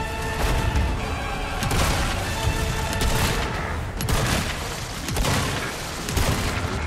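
Sustained gunfire from the Resident Evil video game, including an MP5, with repeated bursts and booming shots layered over a dense, loud soundtrack throughout.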